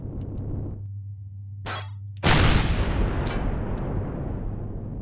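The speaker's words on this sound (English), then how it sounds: "that is a turret. And they can shoot straight up for some reason" Loud turret fire in the space-survival game Empyrion - Galactic Survival, with two sharp blasts and then a sustained roaring barrage that fades slowly over a low humming background.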